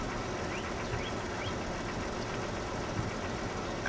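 A Jeep XJ engine idles cold with lifter noise, a continuous close mechanical rumble with fine rapid ticking running evenly throughout, no talk over it.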